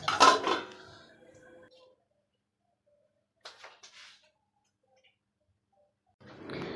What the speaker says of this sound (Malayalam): നമുക്കൊന്ന് ജസ്റ്റ് ഒന്ന് അടച്ച് വെച്ചേക്കാം